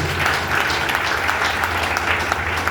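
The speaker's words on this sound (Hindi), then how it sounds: "तो थैंक यू सो मच भैया के एक बार जोरदार ताली होनी चाहिए।" A crowd at a gathering breaks into loud, sustained clapping for an invited guest, many hands beating at once in a steady wash, with a low hum underneath and no speech on top.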